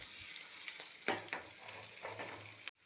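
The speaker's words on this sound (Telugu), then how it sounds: "మీడియం ఫ్లేమ్ మీద ఇలాగే కొంచెం ఫ్రై అవ్వనివ్వండి." Green chillies fry in a pan over a medium flame, giving a steady close sizzle with bursts of crackling and occasional stirring scrapes, then a sudden cutoff near the end.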